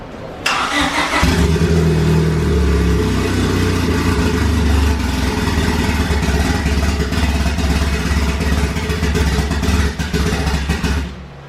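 A car engine cranks and catches, then settles into a loud, rough, steady idle with a deep rumble that runs for about ten seconds before cutting off, with no talking over it.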